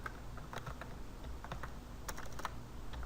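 Close, brisk typing on a computer keyboard while coding HTML and CSS, with irregular clusters of sharp key clacks and a few louder taps standing alone without speech.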